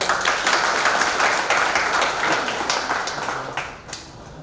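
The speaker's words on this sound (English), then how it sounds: "Can we clap for ourselves?" A party crowd at an end-of-year gathering in a Juba hotel claps together, a dense, sustained wash of applause at close range that thins slightly toward the end.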